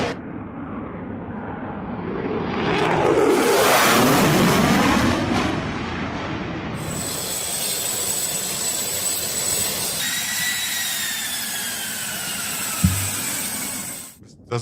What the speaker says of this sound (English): It's just like a video of planes flying.